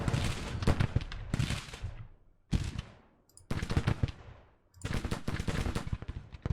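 Civil War cannon and gunfire in the strategy video game Grand Tactician: The Civil War, loud bursts of rapid crackling shots and booms in several clusters separated by brief lulls.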